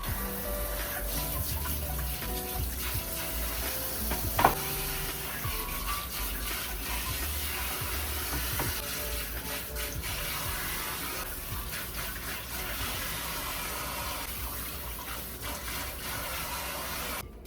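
Tap water runs steadily into a kitchen sink while apples and carrots are washed under it, a continuous close gush with small splashes and one brief clatter, no speech.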